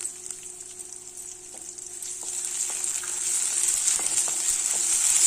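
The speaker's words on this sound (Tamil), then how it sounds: "இது பாதி வெந்துட்டு இருக்கும்போதே நம்ம இந்த இஞ்சி பூண்டு விழுதை வந்து இதில் சேர்த்துடலாம்" Ginger garlic paste sautéing in a pan with onions, a steady bright sizzle that gradually swells louder, with a few soft scraping stirs and no voices.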